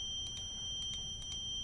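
A clothes dryer in the video game Parasocial gives a run of faint, short electronic beeps in uneven pairs against a quiet background hum.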